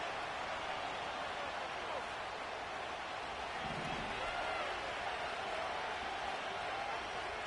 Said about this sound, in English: This crowd making its presence felt early.